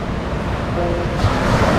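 Ocean waves wash over a large Seychelles beach at high tide, with a continuous close surf rush and wind buffeting the microphone, swelling slightly toward the end.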